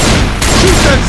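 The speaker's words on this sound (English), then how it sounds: "Shoot that zombie in the back." Loud, dense gunfire fills a short burst as survivors shoot zombies in the video game Left 4 Dead 2, a continuous saturated barrage with no clear gaps between shots.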